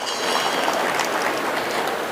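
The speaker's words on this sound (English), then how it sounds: "Let's give a loud applause to our startup founders and innovators" Loud applause from an audience at an AI healthcare summit, a dense, even wash of clapping sustained throughout without talk.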